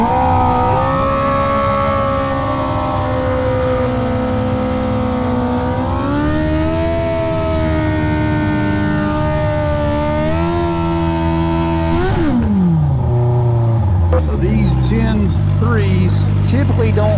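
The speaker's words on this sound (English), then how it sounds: "We're gonna try revving her a little higher this time." A loud Hayabusa drag motorcycle engine revs steadily with rising and falling pitch, then drops sharply toward idle near the end, with a voice talking over it.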